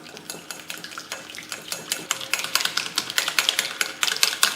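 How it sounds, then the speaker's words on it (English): Powdered sugar and softened butter whisked in a bowl for apple pancakes, fast repeated clinking taps of the whisk against the bowl that grow louder and denser over a few seconds. "Now let us whisk them well."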